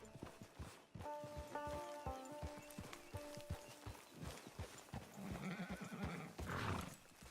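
A horse in Red Dead Redemption 2 whinnies and snorts while its hooves clip-clop steadily near and loud, against a busy game soundscape with a swelling rush toward the end.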